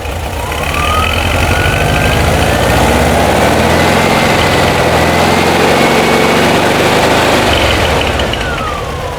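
A 1971 Volkswagen bus engine idles loudly and steadily under heavy alternator load from an aftermarket 12-volt air conditioner, a continuous low rumble with a faint whine drifting above it.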